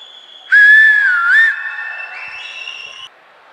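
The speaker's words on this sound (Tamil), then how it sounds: "என் கூட சேர்ந்து அண்ணா விசில் அடிக்கணும்" Loud, shrill whistling from people at the Thalapathy Vijay Educational Awards ceremony. One bright tone swoops up and down while a steadier second whistle holds alongside it, lasting about two and a half seconds before cutting off.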